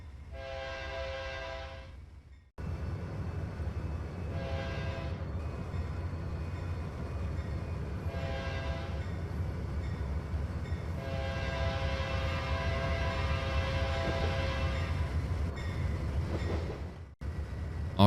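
A train in Trainz 2019 runs up the yard ladder into an interchange yard. Repeated horn blasts sound over a steady rumble of wheels and cars, ending in a sharp clunk.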